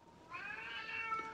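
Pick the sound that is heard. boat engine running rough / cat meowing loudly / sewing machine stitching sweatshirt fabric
cat meowing loudly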